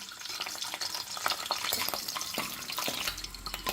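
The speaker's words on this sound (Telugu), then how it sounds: "ఇప్పుడు ఎగ్స్ లైట్గా వేయించుకోవాలండి" Eggs fry lightly in hot oil for an egg curry, giving a quiet, continuous sizzle with scattered crackles and a few soft clinks of a utensil against the pan. No one speaks.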